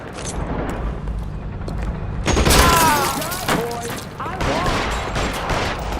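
A gunfight shootout in L.A. Noire: bursts of rapid gunfire and sharp shots, loud and close, with ricochet-like whines and echoing cracks, shouted voices partly over it.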